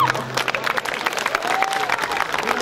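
Girls in the audience clapping at a live Nepali stand-up comedy show, a continuous, moderately loud patter of applause with faint crowd murmur and a brief whistle in the middle.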